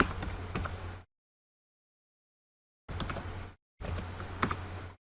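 Quick, close clicking of keys on a computer keyboard as a password is entered, in two short bursts separated by a stretch of silence.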